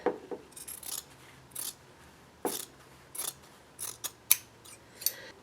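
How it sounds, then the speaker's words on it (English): Scissors snipping through quilt fabric pieces, a series of crisp close cuts arriving in irregular clusters, with faint rustle between them. "We're going to cut the side that has the X."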